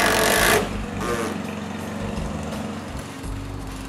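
Cordless screw driver or drill whirring in short bursts as screws go into metal roof panels on a new workshop build, a loud close burst first followed by steadier motor whine with no talking.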